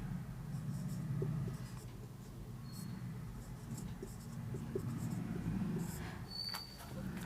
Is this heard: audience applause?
no